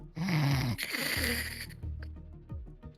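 A person imitates snoring with their voice: a loud, rasping snore followed by softer, sputtering snorts and breathy rumbles, close and alone.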